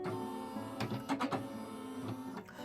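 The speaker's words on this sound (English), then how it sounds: "the embroidery carriage unit will move" The carriage unit of a Brother PE770 embroidery machine whirs and clicks as it moves during calibration, a quiet mechanical hum broken by a cluster of sharp rattling bursts near the middle.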